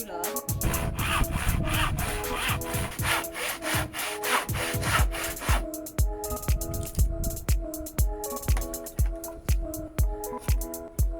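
Hand saw cutting a small lip into a wooden back piece for a garden bench, steady rasping strokes in a quick regular rhythm, close and fairly loud, with no talking.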